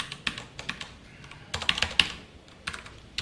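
Someone types code on a computer keyboard at a desk. The clicks come in short, irregular bursts of keystrokes, close and fairly quiet, with no talking.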